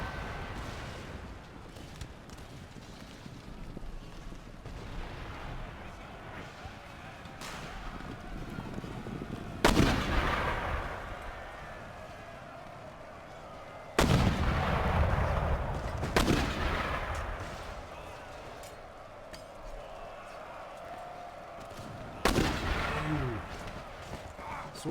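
Mortar and artillery fire in a large Empire Total War battle, a steady rumbling din broken by several loud booming blasts around the middle and near the end.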